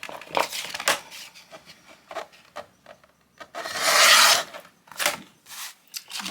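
A junk journal cover is trimmed with close, dry scraping and snipping sounds in short bursts, including one longer rasping stroke partway through.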